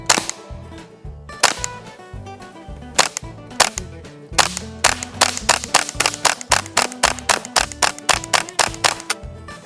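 Integrally suppressed Ruger 10/22 rifle firing at soda bottles outdoors, a long string of sharp, quiet cracks coming steadily and speeding into a rapid, even rhythm, each shot clipped and close with little echo and no talking.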